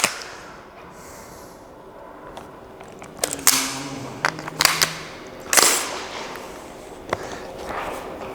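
A Radian Model 1 gas blowback airsoft rifle fires several sharp, separated shots with short cracks and mechanical clacks, spaced irregularly over quiet outdoor background, moderately close.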